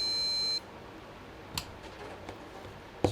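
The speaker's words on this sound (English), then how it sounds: "I'm curious if I do this, if I'm gonna get like a beep error" A motherboard in a budget gaming PC sounds one sharp electronic error beep that cuts off abruptly, followed by quiet room tone with a few faint clicks and taps.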